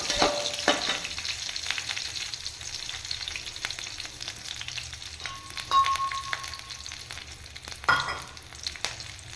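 Green chilies and dried red chilies sizzle in hot oil with garlic, a steady crackling fry with scattered pops and a couple of louder bursts, close by with no talking.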